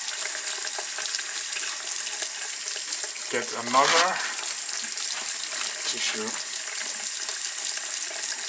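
Tap water runs into a sink in a steady hiss during handwashing while a person speaks briefly over it.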